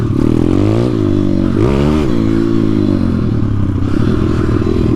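A dirt bike engine revs loudly close by, with strong harmonic blips that rise and fall in quick bursts before settling into a rough idle, and no one speaking.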